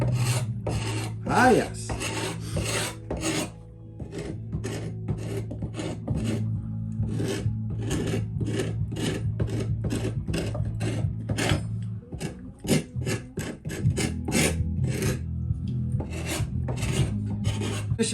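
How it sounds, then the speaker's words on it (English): A wooden tool handle being scraped by hand: repeated rasping strokes, close and crisp, in an irregular rhythm across the whole stretch, over a low steady hum and a few brief spoken words. "I'm just doing a bit of scraping right now."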